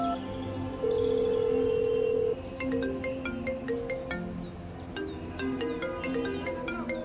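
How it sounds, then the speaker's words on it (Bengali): A mobile phone rings with an iPhone ringtone: a long steady tone, then a run of bright, quick melodic notes that repeat, moderately loud and close with no talking over it. "তোর ওই মোবাইলে আইফোনের রিংটোন?"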